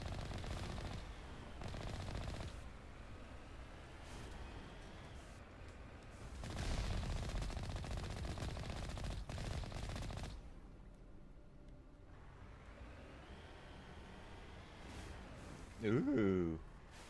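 Gunfire from Geth rocket troopers in the video game Mass Effect, fairly faint bursts of rapid shooting that come and go, with people talking over it.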